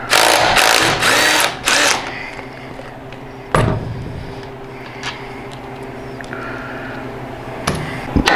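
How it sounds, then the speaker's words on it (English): A Harley motorcycle axle is knocked with a few sharp metallic hammer blows near the start, followed by a single loud strike about halfway through and then quieter shop clatter as the axle slides out during a fat tire kit install. "I can bump that axle and that axle's sliding right out"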